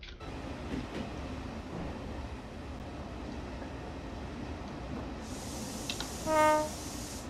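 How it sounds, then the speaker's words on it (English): An AP Class 68 locomotive in the Train Sim 2019 game makes a steady, low rumble as it runs. Near the end a brief, bright horn blast sounds. "but this train takes ages to stop."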